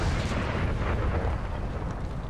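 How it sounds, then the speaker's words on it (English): Artillery counterfire roars through a battle in Napoleon: Total War as a continuous, dense barrage of booms and blasts that stays loud and steady throughout. "we are experiencing a lot of our own counterfire"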